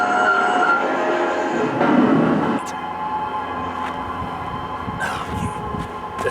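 A train passes on railroad tracks close by, a loud rolling rumble with rattling wagons and a few sharp metallic clacks, fading slightly partway through; no speech over it.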